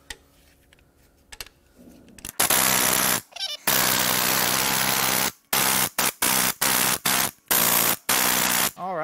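A power tool roars in loud sustained bursts, then in a rapid run of short on-off blasts, while the crank pulley is worked off a Mercedes M156 6.2-litre AMG V8 during a teardown. Quiet shop sounds come before the bursts.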